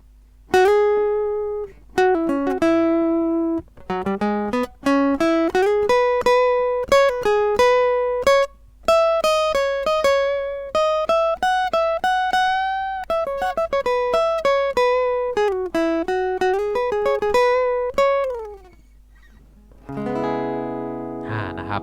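An electric guitar plays the solo from a song, quick single notes and sustained bends, loud and close, followed by a brief strummed passage.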